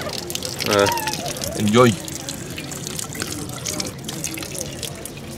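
A drinking fountain of ice-cold water runs with a bubbling, trickling flow, two brief gurgling spurts standing out over a steady background, while a person talks over it.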